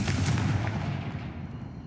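A booming Confringo spell blast from Hogwarts Legacy hits hard at the start, then rolls off into a low, fading rumble with no talking.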